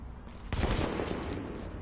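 Gunfire in the video game The Division opens with a sudden loud burst of rapid shots about halfway through, which rings on as dense, sustained firing.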